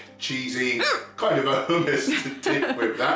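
A person off camera hiccups amid steady talk in a home kitchen where oil-free baked potato chips are being prepared; a brief, sharp hiccup stands out partway through while someone keeps speaking.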